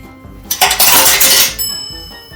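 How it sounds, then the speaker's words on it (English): A metal spanner falls during work on a Yamaha Tenere 700 motorbike and clatters loudly for about a second, with ringing metallic rattles that fade out, close by and with no talk. "I dropped the spanner"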